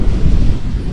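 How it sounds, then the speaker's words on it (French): Strong wind gusts by the sea in Corsica buffet the microphone in a loud, continuous rumble, mixed with the wash of waves close by. "Oh là là, il est trop fort ce vent."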